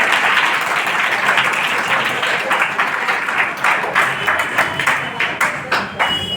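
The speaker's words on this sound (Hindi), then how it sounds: "एक बार ताली बजाइए" Applause for a child answering questions at a classroom gathering in India, a steady burst of many hands clapping close by that tapers slightly toward the end.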